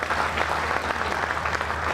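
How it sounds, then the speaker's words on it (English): Audience applause at a Proud American Days military tribute event, a steady wash of many hands clapping at a moderate distance, with a low constant hum underneath. "Just a round of applause to them"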